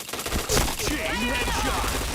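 Rapid gunfire rattles in a video game shooter, dense automatic bursts close and loud, with game sounds and a voice layered underneath.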